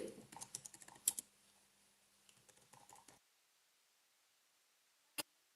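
Holiday name being typed on a computer keyboard, a quick burst of close, light key clicks for about three seconds, then quiet and one final sharp keypress.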